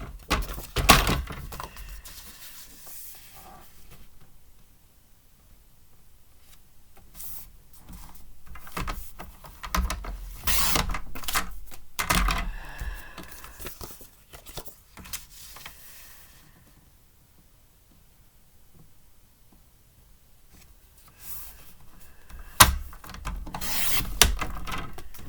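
Card stock being cut to size: quiet, intermittent scraping and rubbing strokes with soft taps and shuffles, close by, coming in uneven bursts between near-silent stretches.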